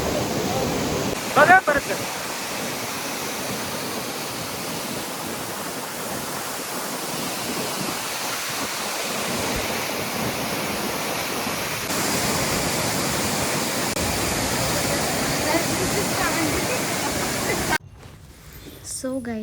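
Mormarewadi waterfall near Kamshet pours in a steady broadband rush during the monsoon, continuous and fairly close, with brief speech and a short knock near the start and a drop in the roar at the very end.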